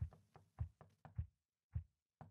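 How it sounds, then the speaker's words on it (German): Knocking on a door in the horror game Incoherence, a run of dull, close thuds in uneven groups with a short pause between them, heard alone. "Wer klopft?"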